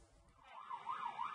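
An ambulance siren wails in a rising and falling pattern, growing louder as the emergency vehicle approaches along a road where a crowd has gathered, with no talking.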